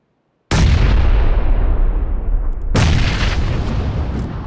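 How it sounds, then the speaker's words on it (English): Two heavy grenade blasts in the video game PUBG, each a sudden loud boom that rolls on into a long fading rumble, the second coming about two seconds after the first. "Someone's throwing nades."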